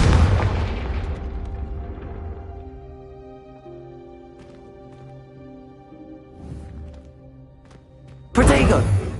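Confringo spell blasts in the Hogwarts Legacy video game, opening with a loud booming burst that rumbles and fades, soft ringing tones and faint pops underneath, then a sharp second blast near the end.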